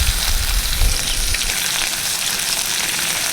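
Onion, garlic and whole cumin frying in oil, a loud dense sizzle with a low rumble of stirring at the start, then a steady hiss with no voices.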